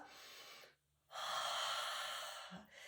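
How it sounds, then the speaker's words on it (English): A long, breathy inhale during a core and plank exercise, a steady airy rush that pauses briefly and then resumes, fairly close and soft with no talking. "You can take a deeper breath."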